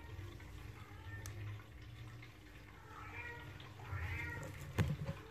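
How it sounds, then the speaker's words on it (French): A large domestic cat in an apartment gives a couple of faint meows over a quiet room background, with a soft knock near the end. "Voilà, c'est mon gros chat."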